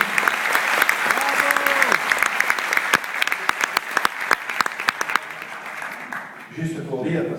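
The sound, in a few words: audience applause at an award ceremony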